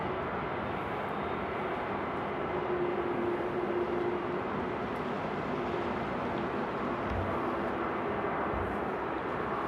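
A KLM Embraer E175 jet comes in to land at Amsterdam airport in the rain, a distant, steady broadband engine rumble and roar with no voices.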